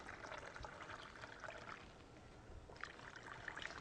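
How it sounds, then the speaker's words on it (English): Brine poured into doubled bags set over cabbage in a sauerkraut crock, giving a soft, steady trickle and splash of liquid that runs on continuously and picks up slightly near the end, with no one talking. "And pour the brine in"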